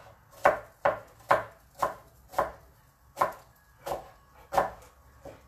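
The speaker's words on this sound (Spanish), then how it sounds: "voy a cortar tantita cebolla." A knife chops onion on a cutting board in nine crisp, evenly spaced strikes, close and distinct, with quiet gaps between them.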